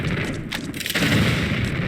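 A super grenade detonating among crocodiles in Tomb Raider IV, Giza beneath the Sphinx: a sharp, loud blast with a second burst close behind, then a dense rumbling tail with no talk over it.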